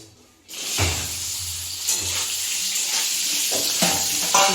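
Boiled potatoes dropped into hot oil set off a sudden loud sizzle that holds steady and bright, with a few thumps and stirs as they shift in the pan.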